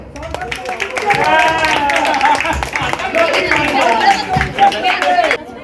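A crowd claps loudly for a prize winner at a family game event, a dense rattle of many hands under overlapping voices and chatter that runs for several seconds before breaking off.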